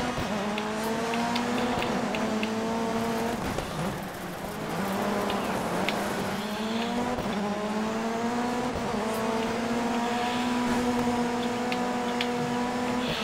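A rally car engine in Dirt 3 races steadily, its revving drone rising and falling through gear changes with a brief dip mid-run, loud and continuous with no talk.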